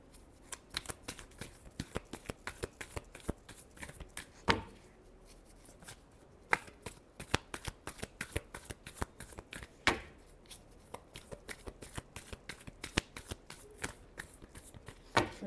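Tarot cards are shuffled by hand in a quiet room, a rapid run of crisp riffling clicks and slaps that comes in dense bursts with brief pauses, close and fairly soft throughout.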